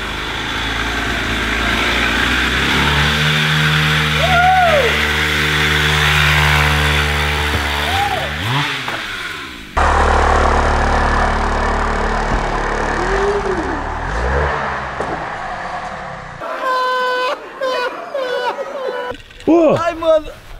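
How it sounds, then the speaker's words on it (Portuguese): A mini motorcycle engine strains up a ramp with a steady buzzing drone that rises and wavers, then cuts out, followed by clatter and excited voices talking nearby. "O motinha não tá nem aguentando subir ali com ele."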